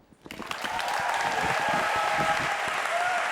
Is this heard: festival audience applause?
yes